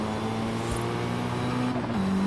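A 720-horsepower Mitsubishi EVO III in Forza Horizon 5 holds a loud, droning engine note. Near the end it dips as the car shifts gear, with a quick release of the blow-off valve.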